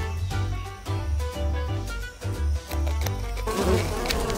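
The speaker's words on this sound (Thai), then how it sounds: "หนีเร็วผึ้งพวกมันโกรธจัดเลย" Swarm of angry bees buzzing loudly and close, a dense droning hum that rises and dips in waves, with a harsher noisy rush near the end; no talking.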